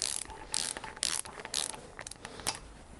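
Ratchet clicking in short bursts while screws are tightened on a Harley-Davidson Shovelhead engine's cam and breather gear cover, several quick rapid-click runs separated by brief pauses, close up with no talking.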